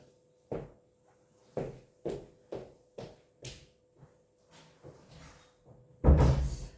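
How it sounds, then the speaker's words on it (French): A door is handled indoors, giving a series of light knocks and bumps at irregular intervals, then a louder final thud as it shuts close by, with no talking. "je vais juste fermer la porte."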